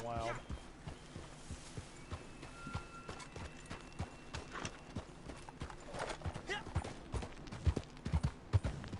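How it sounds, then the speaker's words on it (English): A horse's hooves clip-clop nearby in an irregular, steady rhythm, with a voice talking over them. "Whoa, horse."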